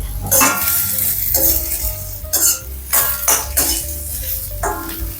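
Garlic and carrots sautéing in a pan for pansit bami, with a utensil repeatedly scraping and clinking against the pan over a steady sizzle; close and fairly loud, with no talking.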